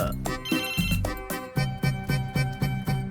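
A phone rings in a Hindi-dubbed South Indian action film, a repeating electronic ringtone pulsing steadily over a music score with no talk.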